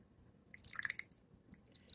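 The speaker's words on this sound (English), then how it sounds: "now we're going to pour some of our sauce in here" Sauce poured into a pan of chicken and melting cheese for quesadillas gives a short, soft liquid splash and drip near the middle, close by, against a faint kitchen hum.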